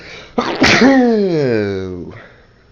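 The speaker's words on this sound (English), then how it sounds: "Sneezed on my gun." A single loud sneeze bursts out, followed by a drawn-out nasal vocal sound trailing off; close and clear.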